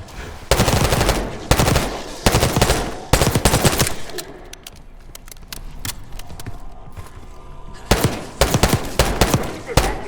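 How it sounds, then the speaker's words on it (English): Bursts of machine gun fire in the Call of Duty Black Ops 6 video game, several loud rapid volleys separated by quieter stretches of distant shots and movement, with a final burst near the end. "You hearing gunfire?"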